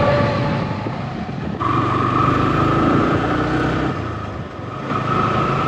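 A racing motorcycle rides along a beach road at Cox's Bazar, its engine holding a steady, loud mid-pitched drone mixed with rushing wind, with a slight shift in pitch partway through.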